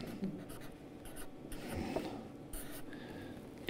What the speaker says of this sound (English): Well, I'll just write it this way.